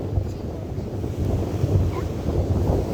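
Strong wind buffets the microphone continuously, a heavy low roar that swells and gusts throughout.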